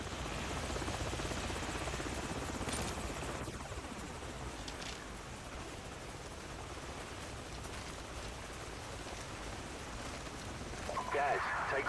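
Helicopter rotors in the video game Call of Duty 4: Modern Warfare thump and whir in the distance over a wash of wind-like noise, faint but steady throughout.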